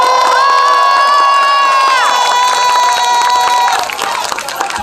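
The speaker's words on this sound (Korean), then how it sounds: "다시 한번 큰 박수 부탁드리겠습니다" An outdoor crowd at a district mayoral campaign rally near a subway station cheers loudly, with shouting voices and long sustained chant-like calls over scattered clapping. The cheering swells, then eases slightly near the end.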